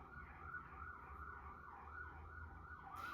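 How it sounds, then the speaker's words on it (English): A wailing siren cycles up and down repeatedly, faint and distant, over a low rumble of traffic. "y'all hear the sirens."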